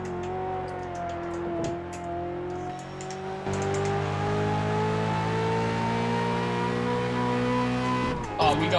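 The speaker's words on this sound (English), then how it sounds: "You can hear more of the engine." A car engine in Test Drive Unlimited 2 with the windows down, a steady droning hum that climbs gradually in pitch, stepping louder partway through, with a brief clatter at the end.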